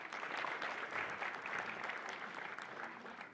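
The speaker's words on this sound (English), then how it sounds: "round of applause for Fred" A crowd gives brief applause at a Super Bowl LX halftime show press conference, moderately loud, steady clapping heard from a short distance with no voices over it.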